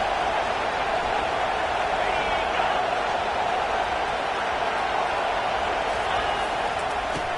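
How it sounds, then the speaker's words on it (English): Stadium crowd at a college football game cheering steadily through a big third down, a dense, constant roar of voices that stays loud and unbroken from start to finish. "Big 3rd down as the crowd gets behind this defense."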